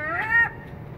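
A crow caws while being fed among seagulls and crows outdoors: one loud, harsh, nasal call, close by and alone, followed by faint background noise.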